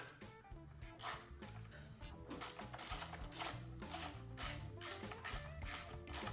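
A ratchet tightens the bolt on a camshaft position sensor with a plastic housing on a 2019-2025 Kia Soul, giving rapid close-up clicking that runs steadily throughout with brief uneven pauses.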